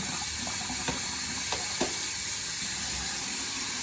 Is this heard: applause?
no